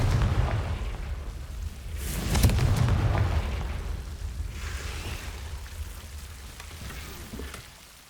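Confringo fire-blast spells go off in the Hogwarts Legacy video game as a couple of rumbling bursts, one around the middle and a softer one later, over a continuous crackling, rain-like wash of game ambience.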